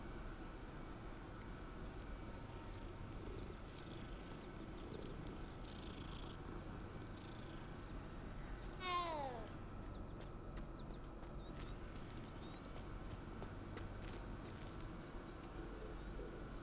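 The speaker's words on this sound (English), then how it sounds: "Hi, kitty." A cat in Hogwarts Legacy purrs in a low continuous rumble and gives one short rising meow midway, faint and steady throughout without speech.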